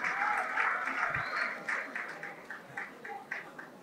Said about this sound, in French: Applaudissons pour le président Félix Antoine Tshisekedi